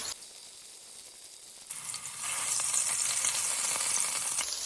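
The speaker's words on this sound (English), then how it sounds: "This is a pretty thick cut of chuck roast, so I'm probably gonna sear all the sides." A thick chuck roast sears in a hot pan, a quieter sizzle at first that swells into a loud, steady hiss about halfway through, close by with no talking.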